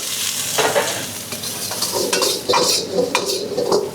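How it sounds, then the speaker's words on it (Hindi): Vegetables stir-fried in a hot pan in an Indian eatery kitchen, with a steady close sizzle and a metal spatula scraping and clanking against the pan in irregular strokes, no voices. "अब डालेंगे हम इसमें वेजिटेबल"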